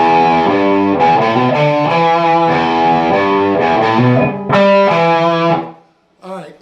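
Distorted electric guitar playing a repeating rhythm lick from a song, chugging notes walking up steadily, loud and close, then a brief pause and a final ringing chord cut short.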